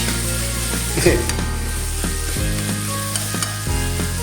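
Tomatoes being mashed in a hot frying pan ahead of corned beef, with steady sizzling under a few clunky scrapes and presses of a utensil against the pan.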